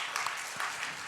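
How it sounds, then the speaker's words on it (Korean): A brief, even wash of congregational clapping at a church graduation service, moderately loud and unbroken. "우리 고생하실 때 박수 한번 보내겠습니다"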